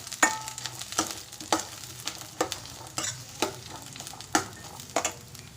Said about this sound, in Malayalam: പിന്നെ നമുക്കിത് നല്ലതുപോലെ മിക്സ് ചെയ്യാം.